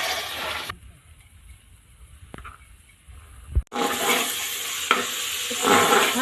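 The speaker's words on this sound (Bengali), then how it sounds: "রসুন আর আদাটা ভাজা হয়ে গেছে। এখন আমি ছোলার ডালটা দিচ্ছি।" Chana dal added to a pan of frying garlic and ginger, a quiet sizzle that bursts into a loud, close, steady hiss and crackle as the lentils hit the oil, with stirring scrapes.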